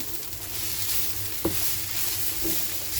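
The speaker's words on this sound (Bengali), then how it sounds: "আর এদিকে বিট গাজর ভাজাটাও কিন্তু আমার হয়ে যাচ্ছে" Beetroot and carrot fry in a pan with a steady sizzle, broken by a sharp clink of a spoon stirring and a softer scrape a moment later.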